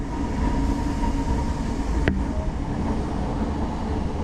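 A Class 313 electric train runs past the Amex Stadium as a steady, loud rail rumble, broken by a single sharp click midway.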